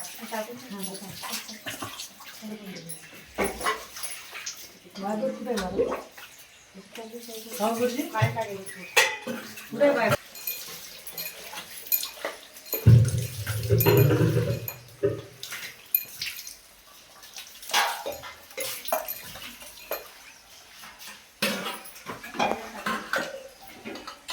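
Water is poured and swept across the floor while the Vitthal Rukmini temple is washed during the Papmochani Ekadashi maha abhishek. There is steady splashing and scraping with clattering, and people talk throughout.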